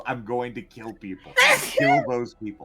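A sneeze bursts out in the middle of a group conversation during a Pathfinder tabletop role-playing session, one loud, sharp, noisy blast surrounded by people talking.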